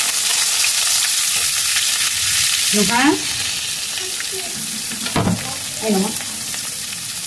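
Chopped onions fry in a pan with a loud, continuous close-up sizzle that swells as they hit the hot oil, while a couple of brief voices speak over it.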